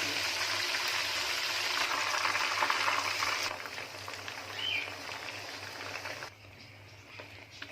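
Chicken pieces fry in a pan with a steady, fairly quiet sizzle and hiss that drops in level partway through and softens further near the end, with a low hum underneath.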